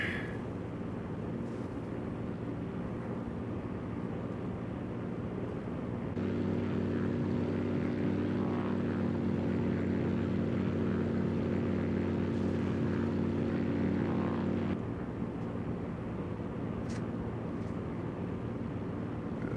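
A Stinson 108-3 propeller plane flying in X-Plane 12, with a steady droning engine and propeller hum that swells louder in the middle stretch before settling back, heard alone.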